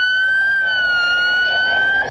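Loud, steady electronic siren tone from the AI collision-warning alarm on a roadside assistance van, sounding continuously for about two seconds with a faint drop at the end, no talking.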